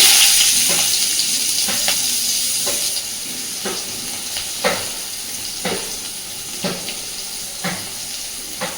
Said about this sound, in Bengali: এবার এই তেলের মধ্যে আমি প্রথমেই দিয়ে দিচ্ছি খানিকটা পেঁয়াজ কুচি